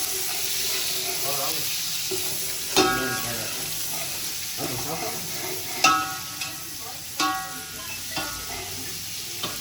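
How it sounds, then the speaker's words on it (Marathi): Chopped onion sautéing in a pan gives a steady sizzling hiss, broken by several sharp clinks and scrapes as it is stirred. "कांदा परतून घ्यायचं काम चाललंय"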